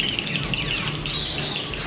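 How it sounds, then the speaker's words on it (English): Birds in a tree at Animal Kingdom squawk and chirp in a dense overlapping chorus, loud and continuous from nearby, with no talk. "It's the tree of birds."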